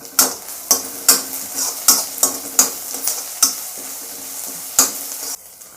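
Garlic and curry leaves sautéing in a pan for a raw banana stir-fry: a constant close sizzle punctuated by about a dozen crisp, rhythmic spatula scrapes against the pan.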